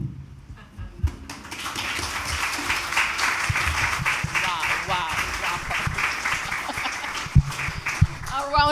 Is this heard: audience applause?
yes